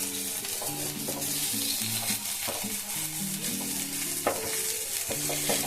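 Chicken pieces for egg chicken chow sizzle and fry in a pan while being stirred, with steady frying hiss and repeated scraping stir strokes throughout, close and fairly loud, no talk.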